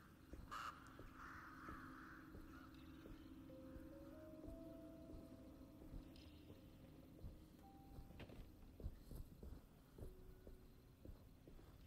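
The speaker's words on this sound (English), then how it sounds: "Fucking birds." Crows caw in the horror game Alone in the Dark, harsh calls set against a steady low droning ambience with scattered faint clicks and thuds, no talking.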